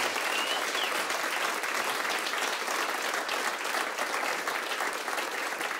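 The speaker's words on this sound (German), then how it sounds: "Einen großen Applaus für diesen wunderbaren Menschen, Nicolas Habian." Steady, dense applause fills the room as a cultural-show audience welcomes a performer, loud and continuous clapping from a crowd throughout with no voices on top.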